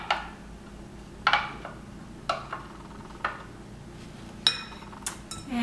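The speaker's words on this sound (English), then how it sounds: "It's all thick, so I'm going to use a spoon here to try to get all of that out." A spoon scrapes and clinks against a measuring cup full of thick white corn syrup, a handful of sharp isolated taps and scrapes spaced about a second apart in a quiet kitchen.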